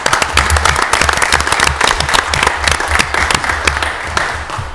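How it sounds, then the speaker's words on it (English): Audience members at a city council meeting in Mobile, Alabama give a loud, sustained round of applause, dense overlapping claps close to the microphone with a low hum underneath. "So let's give both of them another big round of applause."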